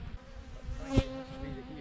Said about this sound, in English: there's a bee just gone by me, man